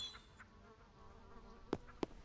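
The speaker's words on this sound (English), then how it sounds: "What are you, a wasp, a bee?" Insect buzzing from a bee or wasp in the game Spirittea, a faint steady drone with two short sharp clicks near the end, no talking.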